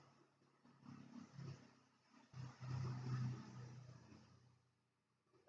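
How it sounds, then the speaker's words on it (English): A garbage truck drives past at a distance, its low engine rumble swelling to a muffled roar and then fading away, faint and with no talking. "I think that was the garbage truck that went by."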